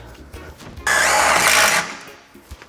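A power drill drives self-tapping screws into the metal of a Mercedes Sprinter van during a side-step install, a single loud, close whirring burst of about one second that stops abruptly amid quiet handling noise.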